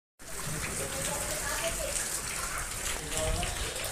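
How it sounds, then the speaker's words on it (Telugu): Rain pouring steadily outside a home, a dense, even wash of falling water that stays constant throughout, fairly close and with no speech over it. "వావ్, ఎంత మంచి వర్షం పడుతుందో."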